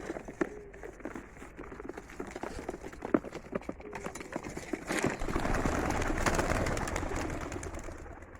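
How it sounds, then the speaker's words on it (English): Young racing pigeons are released from a basket on a warm day and flap off, with a close patter and clatter of wings building into a dense burst of flapping that fades slightly. "So I'm gonna release the birds"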